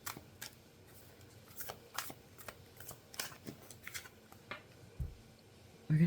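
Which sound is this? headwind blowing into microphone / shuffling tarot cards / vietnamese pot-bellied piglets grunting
shuffling tarot cards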